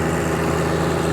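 Sub-compact John Deere tractor running with a flail mower attached, a steady loud close engine drone with a low harmonic hum, no voices.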